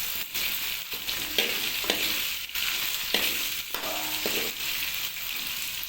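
Tomatoes sizzle in oil with ginger and garlic for a chicken liver dish, a continuous hiss broken by several spatula scrapes and light metallic clinks against the pan. No one speaks.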